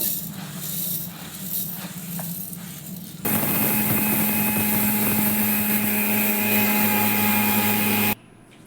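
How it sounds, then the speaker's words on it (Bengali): An electric mixer grinder pulverises soaked, dried rice into powder, a loud steady whirring motor roar that starts abruptly after some quieter handling noise and cuts off sharply near the end. "এবার আমি মিক্সিতে এটাকে গুঁড়ো করে নেব"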